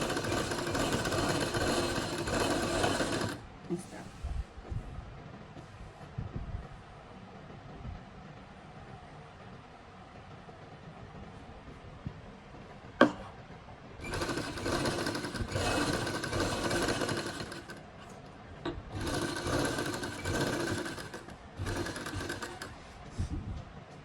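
A sewing machine stitches a suit with pintucks and lace, running in several loud, steady bursts separated by quieter pauses with faint handling sounds.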